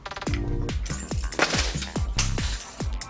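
Keys dropped onto an iPad clatter in a rapid series of sharp metallic bounces and rattles, close and fairly loud, with no talking.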